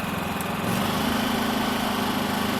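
Predator 3500 inverter generator running with its fuel economy mode switched off, engine hum rising in pitch as it revs up, a steady close drone throughout with no talk.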